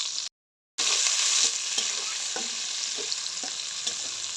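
Onion frying in hot oil with cardamom and cinnamon for prawn pilaf, a steady close sizzle broken by a short silence near the start, with occasional light stirring clinks.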